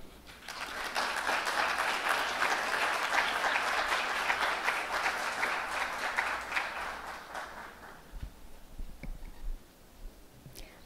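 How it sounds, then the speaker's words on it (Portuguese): An audience at an evening tribute ceremony gives sustained applause, a dense wash of clapping that holds steady for several seconds and then thins out and fades, with a few scattered bumps at the end. "que aplaudam esse programa e desejem sucesso e vida longa para ele."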